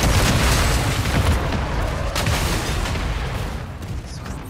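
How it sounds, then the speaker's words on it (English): A friendly mortar explosion in a video game booms loudly at the start, then rolls into a sustained, rumbling roar that slowly fades over several seconds. "Friendly mortar"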